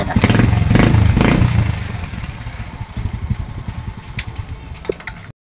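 A motorcycle with a weak, nearly flat battery idles close to the mic, a loud throbbing rumble that eases after a couple of seconds into a steady chugging idle with light clatter.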